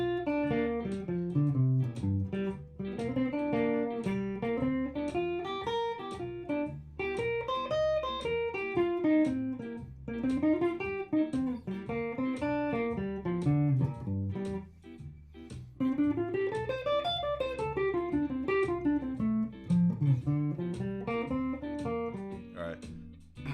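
Pentatonic blues phrases played over jump blues chord changes, a continuous instrumental line of rising and falling runs with steady accompaniment throughout, no talking.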